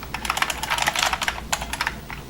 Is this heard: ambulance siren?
no